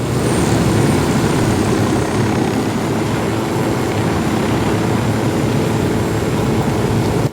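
A video game helicopter flies, giving a continuous loud rotor and engine drone with steady chopping throughout and no talk.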